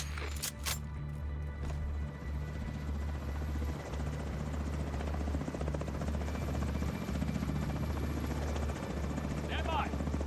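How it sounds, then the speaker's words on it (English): An enemy helicopter in the shooter game The Division 2, a steady low rotor thrum and drone holding throughout, with brief sharp game sounds at the start and voices in the mix. "Enemy helicopter approaching."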